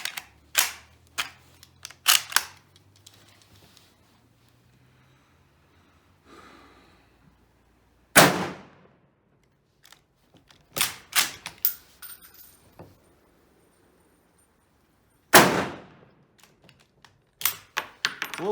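Outdoor rifle range in cold weather with an Indian 2A1 SMLE rifle in 7.62x51mm: loud, sharp individual shots spaced seconds apart, interspersed with clicks and clatter of bolt cycling and handling between rounds.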